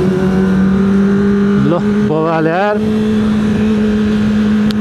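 A Kawasaki Ninja ZX25R revs hard in a tunnel, its steady high-pitched engine drone rising through quick throttle blips that echo loudly, while a rider speaks briefly.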